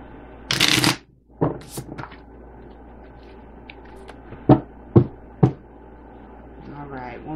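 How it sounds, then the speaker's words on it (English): Tarot cards being shuffled in a long riffle, then several sharp taps and flicks as the deck is squared and cut, close and distinct, with a faint voice near the end. "So I'll shuffle again and pass them through one more time."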